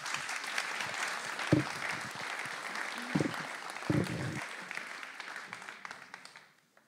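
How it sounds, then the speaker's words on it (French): Applause fills a hall at a church gathering marking 500 years of the Anabaptist story, a sustained crowd of clapping at moderate distance that gradually tapers off at the end. "On peut les applaudir."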